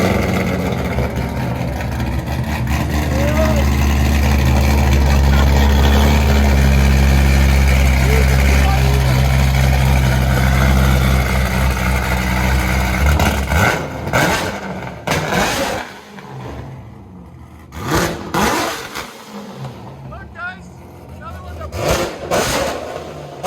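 A procharged 1,000-horsepower Corvette with long tube headers and straight pipes rumbles loudly and steadily at close range for about thirteen seconds, then cuts to a series of sharp, choppy revs and bursts with gaps between them.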